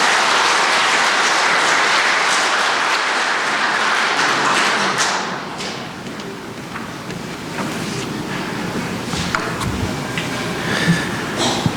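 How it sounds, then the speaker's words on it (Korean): A hall audience in a Catholic parish church claps to welcome a priest for a Lent lecture, loud dense applause that thins into scattered claps after about five seconds. "박수로 이렇게 모시도록 하겠습니다."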